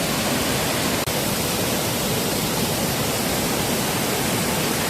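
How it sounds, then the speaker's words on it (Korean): A small waterfall with a heavy flow of water along a forest path near Seoul, cold season, gives a steady, even rushing roar that holds unbroken throughout, close by and alone. "이곳이 첫 번째 폭포인데요. 물 수량도 많고 정말 멋지네요."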